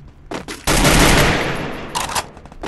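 A rapid, loud burst of automatic gunfire spraying in the mobile shooter Free Fire, a dense, continuous stream of shots lasting over a second with short bursts before and after.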